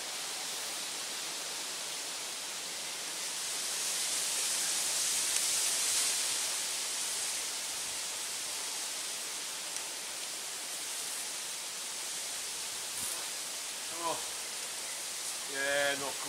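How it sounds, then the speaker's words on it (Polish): Wind by a lake roars as a steady broadband rush throughout, with a gust swelling in the middle, and a few brief faint sounds near the end. "Wiatr jest."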